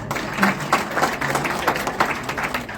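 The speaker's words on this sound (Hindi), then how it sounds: "आप लोगों को जोरदार तालियां" Audience clapping at an open plan and product session, a moderate patter of several hands with uneven surges, fairly close and not very loud, with faint voices underneath.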